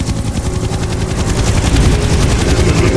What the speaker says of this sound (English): Zahe, do you hear some helicopters?